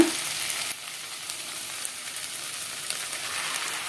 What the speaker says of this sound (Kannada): ಜಸ್ಟ್ ಈ ರೀತಿ ಮಸಾಲೆನ ಹಾಕ್ಕೊಂಡು ಜಸ್ಟ್ ಒಂದರಿಂದ ಎರಡು ನಿಮಿಷ ಫಸ್ಟು ಫ್ರೈ ಮಾಡ್ಕೊಬೇಡ